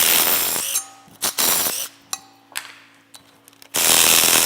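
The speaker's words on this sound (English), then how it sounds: "you remove it all the way with a wrench" A wrench works loose an exhaust manifold stud on a Caterpillar 3406E C15 diesel engine: metallic clinks and scraping strokes, close up, with louder grinding bursts at the start and end and no talk.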